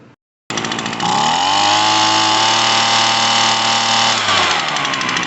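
An Echo PB-200 power blower's small two-stroke engine starts abruptly after a carburetor and fuel-line repair, then runs loud and close with a buzzing, steady drone. Its pitch rises, holds, and dips slightly near the end.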